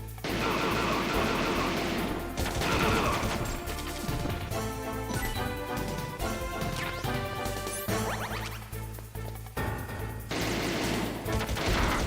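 Gunfire and explosions in the video game Metal Gear Solid, a dense, loud, continuous barrage of crashes and bursts layered over steady game music.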